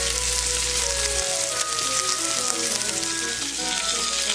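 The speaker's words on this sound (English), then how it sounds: "I've got a cast iron pan and I'm putting it in some hot grease for about 3 minutes. We're going to let it sear for 3 minutes." A steak sears in hot grease in a cast iron pan with garlic on hand, a loud, steady, close sizzle and crackle that runs unbroken, with a low hum in the background at first.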